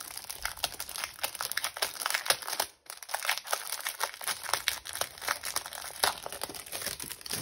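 Scrapbooking papers being handled close by: continuous crinkling and rustling with sharp crackles and a brief pause midway, no voices.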